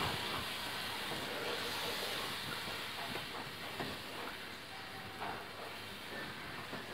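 Delhi-style chicken korma frying in a pan gives a steady, continuous sizzle that holds an even level for the whole stretch, with faint scattered crackles and no voices.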